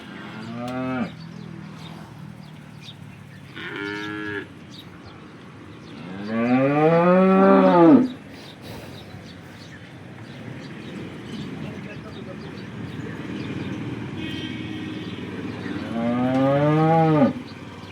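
A local Banaskantha cow moos during milking, giving about four long, drawn-out lows spaced across the stretch, close and fairly loud over steady background noise.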